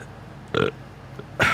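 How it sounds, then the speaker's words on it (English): Two short, close burps from a man drinking beer, one brief belch followed by a louder second one after a short pause, with no talking. "I need a burp."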